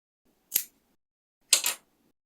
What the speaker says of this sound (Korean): 뜨던 실도 마찬가지로 한 20cm 정도 충분히 남기고 잘라줍니다